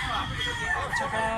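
A black stag gamecock crows close by, one loud strained call over a busy outdoor background.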